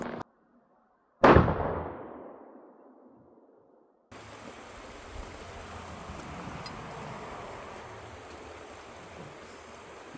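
A single loud shotgun blast fired at a target rings out with a decaying tail, followed after a pause by steady outdoor wind or background rush.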